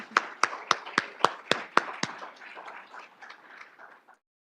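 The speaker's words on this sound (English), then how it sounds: "Let's give them another round of applause." Veterans Day celebration audience clapping for veterans: about eight sharp, evenly spaced claps ring out, then scattered softer applause trails off into near silence before a final bump.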